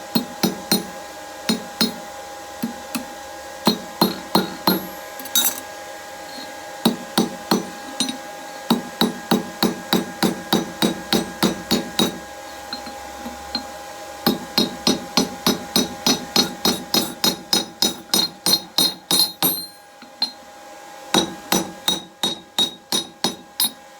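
Hammer blows peen over the head of a hot steel rivet on a pair of forged bolt jaw blacksmith tongs, loud ringing metallic strikes in steady rapid runs separated by short pauses, with no talking.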